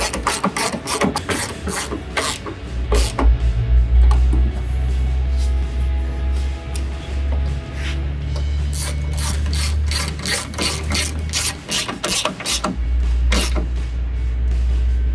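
A hand ratchet tightens a headlight mounting bolt on a 2007-2013 GMC Sierra 1500, rapid clicking bursts in repeated strokes with creaking pauses and a low hum underneath, close and loud.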